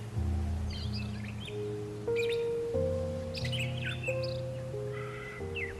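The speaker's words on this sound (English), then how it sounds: "their position is often given away by their vocalizations, one that is unique among all the birds found in the Virgin Islands" Moist forest birds in the Virgin Islands chirping and calling in short bursts, with a deeper sustained droning tone underneath throughout, fairly close and clear.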